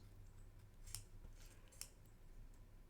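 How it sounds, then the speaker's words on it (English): Scissors snip through paper to cut a narwhal fin for a pop-up card, two crisp, faint cuts about a second apart in a quiet room. "You could cut his fin like this."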